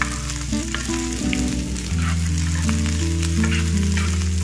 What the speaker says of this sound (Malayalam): ഉണക്കമുളക് നല്ലതുപോലെ ഒന്ന് വറുത്ത് വരണം.